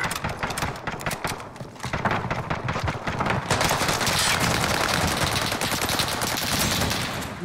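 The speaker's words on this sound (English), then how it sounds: "Who's my boy shooting at?" Dense, rapid automatic gunfire from a Call of Duty Warzone match featuring the FFAR 1 rifle, with bursts building into continuous loud rattling volleys that stay intense through the second half.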